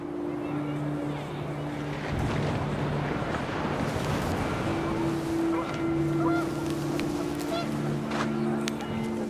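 Panicked geese in What Remains of Edith Finch honk in scattered calls as wind rises, heard over a continuous rushing wind and water ambience with sustained tonal music.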